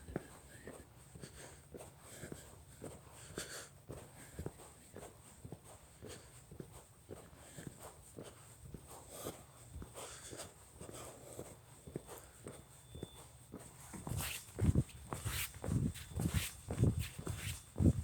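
Footsteps of someone walking a dog through a park in the dark, a steady run of soft close steps with a dog's movement, growing louder and heavier toward the end.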